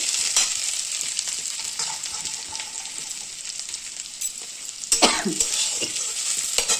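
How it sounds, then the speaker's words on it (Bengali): Potatoes and onions fry in a pan for a ridge gourd and potato poppy-seed dish, giving a steady close sizzle with scattered stirring scrapes and a louder burst of stirring near the end. "প্রথমে পেঁয়াজগুলো ভেজে আমি আলুটা দিয়ে ভাজা করে নিচ্ছি ভালো করে।"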